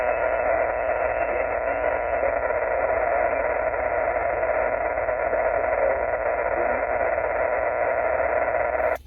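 A steady hiss of band noise fills a shortwave amateur radio receiver at a state park activation, and a faint station calling sits buried beneath it before the sound cuts off abruptly.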